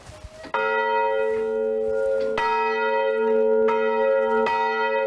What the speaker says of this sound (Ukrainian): про ракетну небезпеку жителів Голені сповіщав цей дзвін, який колись теж ховали від радянської влади